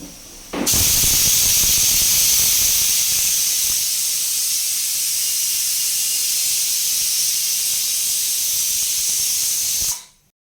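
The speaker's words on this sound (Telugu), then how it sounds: "సో ఇంకా నాలుగు విజిల్స్కి పప్పుడుకు ఉడికిపోయిందండి" A pressure cooker cooking dal releases steam in a loud, steady hiss that starts abruptly, holds for about nine seconds close by, then cuts off.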